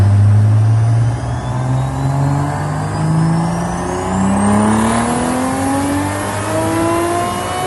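A 1000-horsepower Toyota Supra engine revs hard and loud, the engine note climbing steadily through the gears as the car accelerates, with no talking.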